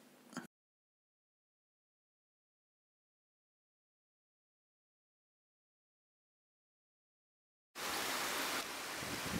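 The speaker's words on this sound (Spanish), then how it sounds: "Y al ladito se encuentra la cascada Las Melosas." The Las Melosas waterfall beside the Maipo River in Cajón del Maipo makes a loud, steady rushing roar that starts suddenly near the end, after a long stretch of silence.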